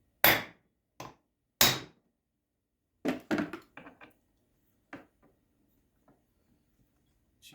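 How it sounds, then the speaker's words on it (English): A hammer taps on the flywheel of a McCulloch PM 605 chainsaw to loosen it: about a dozen sharp, close metallic knocks in irregular bursts, loud at first, then lighter and sparser with silence between them. "I'm gonna give it a good healthy tap and see if I can loosen this flywheel up"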